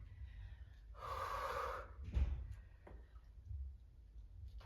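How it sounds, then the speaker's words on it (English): Heavy, close breathing during a dumbbell workout: a long harsh exhale, then a sharp gasping inhale and softer breaths following, faint overall, with no talk. "Inhale and exhale."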